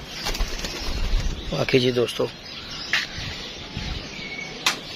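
Released pigeons circle overhead, with soft cooing coming through the open air beneath a voice.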